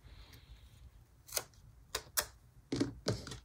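Scissors snip paper for a Happy Planner spread, a handful of quiet, sharp close cuts spaced irregularly over a few seconds in a quiet room.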